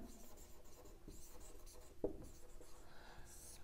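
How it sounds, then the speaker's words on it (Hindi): Chalk or marker writes on a board during a chemistry lecture, making quiet scratchy strokes close by with a soft tap in the middle. "तो मैं बीच में ही लिखता हूं रिडक्शन।"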